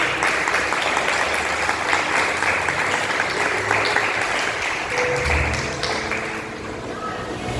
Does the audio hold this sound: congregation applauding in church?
yes